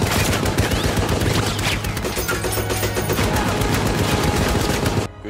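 Gunfire from the war film Fury: loud, dense bursts of rapid automatic fire, a continuous barrage of sharp cracks that keeps going before cutting off at the end.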